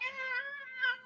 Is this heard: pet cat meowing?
yes